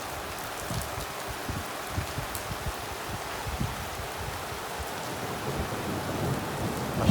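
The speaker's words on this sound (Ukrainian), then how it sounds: "ще гримить" Steady rain falling with low rumbles of thunder rolling underneath, a continuous wash of noise without any voices.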